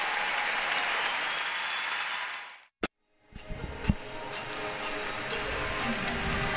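A crowd at the 2016 World Figure Skating Championships applauds Spain's Javier Fernandez after his short program. The steady, loud applause drops out briefly, then swells back with scattered claps and cheers.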